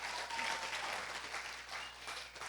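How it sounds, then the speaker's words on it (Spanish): Congregation applause during a family church worship service, steady crowded clapping at moderate level over a faint low hum. "Dale un aplauso al Rey"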